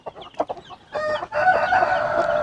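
A hen in a backyard coop, clucking in short close bursts that give way to a longer, sustained crowing-like call, loud and alone without any talk.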